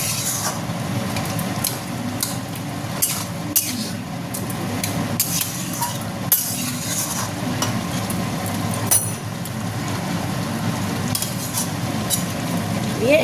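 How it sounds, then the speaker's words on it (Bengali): Vegetables being stirred in a pan just after raw oil goes in for a vegetarian mixed vegetable dish, with a steady scraping, clinking rhythm over a continuous sizzle, close and fairly loud, with no voices. "এইবার দেবো কাঁচা তেল। দিয়ে আবার একটু নাড়া দেবো।"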